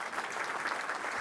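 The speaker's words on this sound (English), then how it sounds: "You can give her some applause." A public safety awards audience claps steadily in a large room, a fairly soft, even patter of applause with no talk over it.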